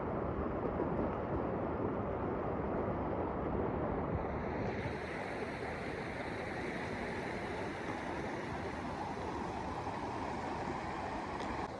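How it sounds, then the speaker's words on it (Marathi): A river stream rushing over rocks near a waterfall by a temple, a dense, loud, unbroken roar of flowing water filling the whole scene with no voices. "आणि फक्त पाण्याचा आवाज."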